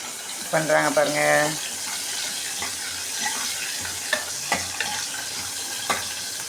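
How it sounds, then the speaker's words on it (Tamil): Tamarind squeezed and dissolved by hand in a bowl of water in a home kitchen, steady wet squelching and sloshing close by, while a voice briefly hums or sings near the start. "புளி கரைக்கிறாங்க பாருங்கள்."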